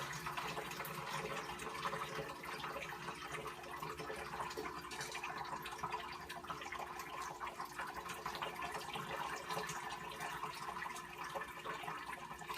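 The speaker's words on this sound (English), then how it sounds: "we're going to take our 5 gallons of water that we've heated up to 170 and we're going to rinse through these" Hot water at 170 degrees is poured slowly to rinse through brewing grains, a faint, steady splashing and trickling of liquid that carries on throughout with no talking.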